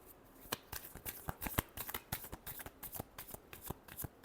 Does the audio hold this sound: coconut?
no